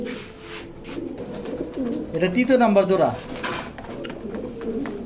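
A racing pigeon hen gives a rising, warbling coo near at hand, a brief burst among other birds' background cooing, while someone talks over it.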